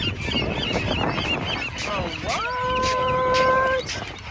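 A seabird at Santa Monica beach lets out a drawn-out, honking squawk partway through, rising over a busy mix of nearby chatter and outdoor beach noise.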